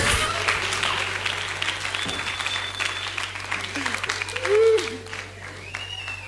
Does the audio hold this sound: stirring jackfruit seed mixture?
no